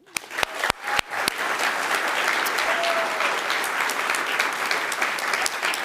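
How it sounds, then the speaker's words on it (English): A keynote audience breaks into applause, starting with a few sharp individual claps and swelling into steady, dense clapping from a large crowd that holds to the end. "How about a big round of applause?"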